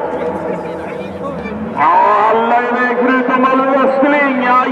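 Race cars launch together from the grid at the Vimmerby Easter race finals, engines rising sharply into a loud, building roar under an excited commentator's voice.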